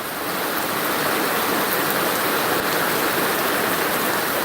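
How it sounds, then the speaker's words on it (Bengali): Heavy rain pours down in a dense, continuous roar of water, loud and unbroken throughout. "কি মুসুলধারে বৃষ্টি হচ্ছে"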